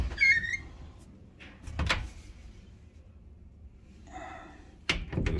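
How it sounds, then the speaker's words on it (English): A hotel room closet's double doors are opened in a quiet room, giving a few soft clicks and squeaky scrapes spread over several seconds. "Little closet here, double door."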